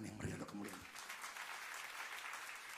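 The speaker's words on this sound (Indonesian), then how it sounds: "Tepuk tangan yang meriah untuk kemuliaan." Applause at a church service, a dense steady wash of clapping from a congregation that swells in after a brief voice at the start and holds evenly to the end.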